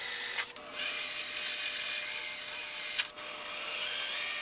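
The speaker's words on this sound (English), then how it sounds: "So once I've finished drilling all of the holes" A high-pitched drill whines steadily at close range, briefly cutting out twice as it bores holes through a Nidacore panel.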